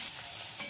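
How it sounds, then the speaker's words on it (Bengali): Chopped onion dropped into hot mustard oil, a brief close hiss of frying with no talk. "সর্ষের তেল দিয়েছি, তেলটা গরম হয়ে গেছে। পেঁয়াজ কুচিটা দিয়ে দেবো।"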